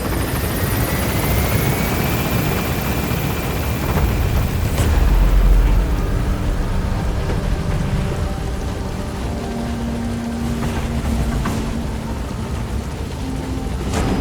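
Rotor thump and turbine whine from the B-Quad helicopter lifting off in Metal Gear Solid V, loud and continuous, a rising engine tone as it climbs, with no talking.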